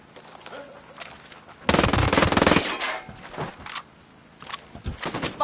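Gunfire in the Ghost Recon Wildlands video game, heard as a loud burst of rapid shots lasting about a second, set among quieter game sounds and voices.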